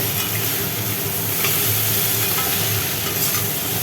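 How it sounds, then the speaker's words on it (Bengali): Spiced crab curry masala hisses and sizzles loudly and steadily in a pan as water goes in, a dense continuous frying roar with faint clinks, no voices. "এইবার হালকা করে জল ঢেলে দেওয়া হলো"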